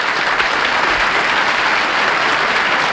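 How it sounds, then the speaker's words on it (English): Studio audience applauding on a 1970 syndicated television game show, a loud, steady roar of many hands clapping that holds evenly for the whole stretch. "They'll applaud anything."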